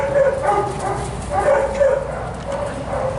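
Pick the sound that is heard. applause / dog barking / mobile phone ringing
dog barking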